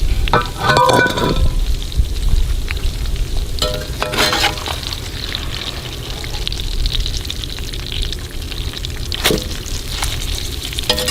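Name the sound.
battered rattlesnake deep-frying in oil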